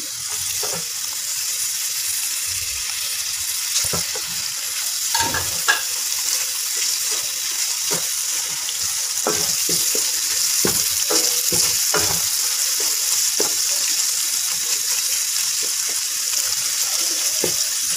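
Finely chopped carrots and cabbage stir-fry on a low flame, with a steady gentle sizzle and repeated spatula scrapes and taps against the pan throughout, close and moderately loud, no talking.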